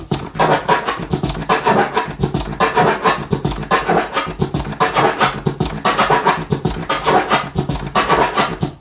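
Rhythmic turntable scratches cut over a steady kick and snare beat, loud and continuous with repeating bursts.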